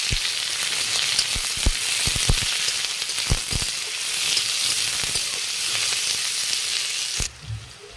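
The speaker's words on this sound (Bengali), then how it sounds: "এবার দিয়ে দিব গোটা গরম মশলা আর তেজপাতা, পেঁয়াজ কুচি, এবার পেঁয়াজটা লাল করে ভেজে নেব।" Chopped onions frying in hot oil with whole garam masala and bay leaf: a loud, constant close sizzle punctuated by repeated sharp pops and spatters, cutting off abruptly near the end.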